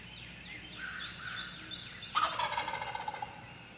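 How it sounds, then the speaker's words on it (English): Eastern wild turkeys gobbling from the roost before daylight, a couple of rattling gobbles from a moderate distance, the second one louder and closer, breaking over quiet background air. "Gobbling from the roost can often start 15 to 30 minutes before daylight"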